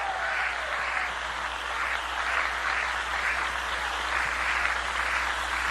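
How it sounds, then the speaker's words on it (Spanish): A church congregation claps for Christ during a sermon, a dense, even wash of applause that holds steady at a moderate level from start to finish. "Denle un aplauso a Cristo."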